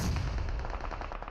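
Gunfire in an online battle royale esports match, with rapid bursts of shots crackling continuously under a dense, loud game soundscape and no voice.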